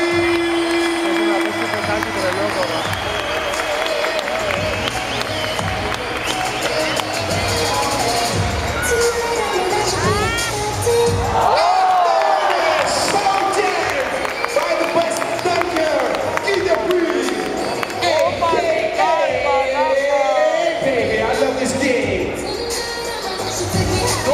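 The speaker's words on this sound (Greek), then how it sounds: "Θέλω να ακούσω ένα δυνατό χειροκρότημα όλοι μαζί." A large crowd at an all-star sports show cheers and shouts throughout, with rising whoops and scattered clapping under continuous noisy chatter, loud and close with no pause.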